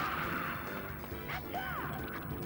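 Explosion in the PS1 fighting game Hokuto no Ken: Seiki Matsu Kyûseishu Densetsu, a dense, crashing burst of game sound effects that fills the whole clip with a rising tonal sweep in the middle.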